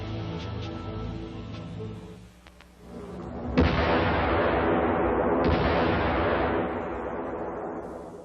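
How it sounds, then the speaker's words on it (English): C4 explosives combined with petrol detonating to destroy a vehicle depot, a loud blast that hits suddenly after a brief lull and rolls on as a sustained, roaring rumble. "Using C4 explosives with petrol, this Jaeger sets up a configuration used in destroying a vehicle depot."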